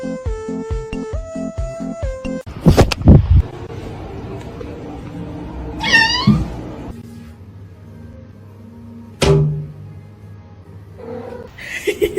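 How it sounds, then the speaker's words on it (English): A pet cat vocalizes indoors with a few short, strained meows and cries scattered among household noises and a brief musical jingle, fairly close and moderately loud. "Sorry, my cat."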